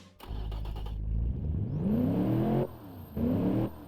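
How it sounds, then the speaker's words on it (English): Brand-new 3.5L turbo V8 in a custom car from Automation and BeamNG, revving hard from idle into a long rising sweep, dropping off, then a second shorter rev-up, loud and close with no talk. "now we're going to listen to our brand new turbo engine"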